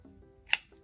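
A single quick, crisp snip of scissors cutting a yarn tail on a knitted V-neck sweater panel, heard alone in a quiet room.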